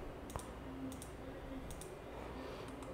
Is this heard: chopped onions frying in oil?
no